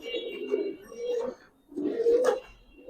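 Pakistani highflyer pigeons at a pigeon farm coo in two rolling phrases with a brief pause between, close and fairly loud, with no talk over them.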